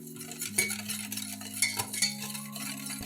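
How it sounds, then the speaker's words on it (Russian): Spoon stirring a no-bake cake glaze mixture of dry ingredients and milk in a pot, with a few scraping clinks against the sides over a steady low hum, close and fairly quiet. "Опять перемешиваем."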